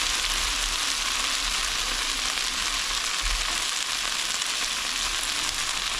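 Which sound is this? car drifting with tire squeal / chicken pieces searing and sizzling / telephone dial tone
chicken pieces searing and sizzling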